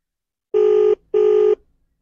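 A WhatsApp call rings out, two evenly spaced steady electronic tones of about half a second each, clear and close, with no voices.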